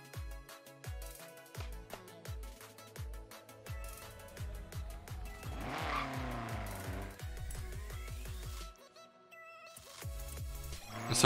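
Racing car engines in Forza Horizon 3 rev up and shift through gears again and again, with a swelling tire squeal in the middle and a short drop before the revving resumes, loud and without speech.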